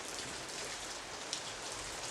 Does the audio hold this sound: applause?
no